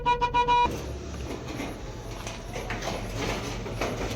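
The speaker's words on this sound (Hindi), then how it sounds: "अभी हॉर्न बजा रहे हैं" Several short car horn toots ring out in quick succession outside a gate at night, loud and near, then give way to a steady rumble of an idling engine and street noise.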